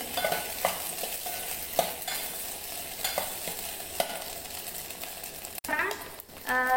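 A curry fries in a pan with continuous sizzling, punctuated by repeated clicks and scrapes of stirring and a louder clatter toward the end, with no talking.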